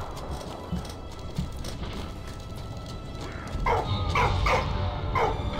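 Dog barking inside the World War I video game Valiant Hearts: The Great War, a few short yelps and barks in the back half over a steady game soundtrack.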